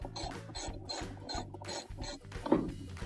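A ratchet wrench loosens the bolt holding a washing machine agitator, giving rapid clicking pawl strokes in a steady repeated rhythm, close and clear, ending with a sharper metallic clack.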